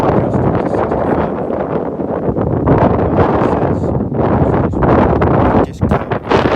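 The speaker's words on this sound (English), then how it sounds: "a sustained wind of 40 miles an hour and a gust up to 65" Strong gusting wind in cold New Mexico weather blasts across the microphone as a loud, continuous roar, surging and dipping with the gusts and never letting up.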